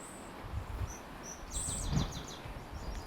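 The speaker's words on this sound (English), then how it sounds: "You can hear the birds." Outdoor birdsong near an old schoolhouse in the countryside, several high chirps and short trilled calls at a moderate distance over a steady wind-like rumble.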